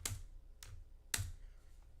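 Typing on a computer keyboard: a few sparse, quiet key taps spaced irregularly, close by with no talk.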